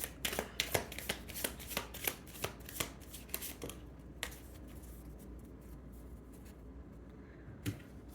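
Tarot and oracle cards are shuffled by hand, giving a steady run of crisp riffling slaps. These fade into quieter handling with one more slap near the end.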